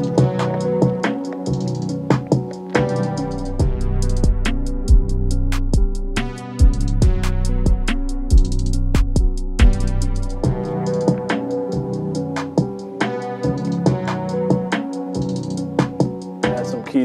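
A trap beat programmed in FL Studio plays steadily, with punchy kicks and deep 808 bass under fast ticking hi-hats that break into quick rolls, looping with no talking over it.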